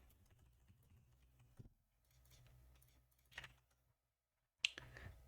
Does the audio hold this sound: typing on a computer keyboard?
yes